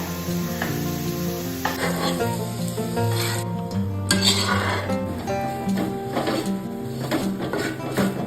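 Pasta coated in masala sizzling in a pan while a utensil scrapes and clinks against the metal, continuous cooking noise with a tonal hum running underneath.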